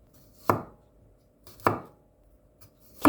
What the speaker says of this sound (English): Cut or minced 2 to 3 cloves of garlic